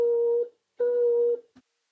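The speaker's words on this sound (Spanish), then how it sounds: "Era la nota que da el teléfono." A telephone busy tone sounds two steady beeps, each about half a second, separated by a short gap and followed by a faint click, clear and alone.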